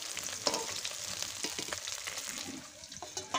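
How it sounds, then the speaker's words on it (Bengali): Dhela fish frying in hot oil in a wok, giving a steady close crackling sizzle with small spits and stirring scrapes throughout, no voices. "যে কটা মাছ ছিল সেগুলোকেও আমি ভেজে নিচ্ছি"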